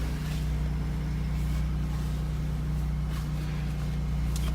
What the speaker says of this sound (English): My motor is like got ice on it.